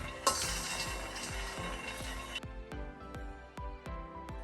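Peanuts dry-roasting in a pan are stirred constantly, giving a steady series of crisp clinks and scrapes about every quarter second. A brief hiss fades after the first couple of seconds, and no one speaks.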